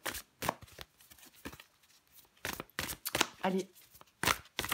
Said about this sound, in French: Je prends encore une carte.